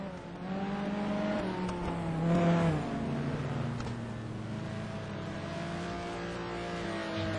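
Race car engines at Anderstorp during an STC Black Cup race, heard as a sustained engine drone with rising pitch as cars accelerate, steady and moderately distant, with a brief louder swell near the middle.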